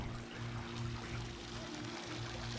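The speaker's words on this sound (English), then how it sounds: "Okay, so now we've got water shooting out." Water gushing steadily from the adapter plate of a pool vacuum hose sinking in a swimming pool, a continuous broadband rush with a low hum underneath, fairly faint and unbroken throughout.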